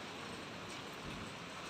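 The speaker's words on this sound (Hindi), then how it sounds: "बहुत खूब तगड़ी बारिश" Heavy rain pours steadily outdoors, a dense, even wash of falling water that stays constant and fairly faint throughout, with no voices.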